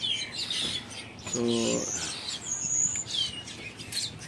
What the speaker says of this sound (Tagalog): maingay yung mga ibon